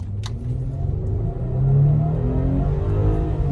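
A 2013 Mercedes ML350 accelerates hard from inside the cabin, a deep, steady engine rumble building into a rising surge and holding loud for a few seconds.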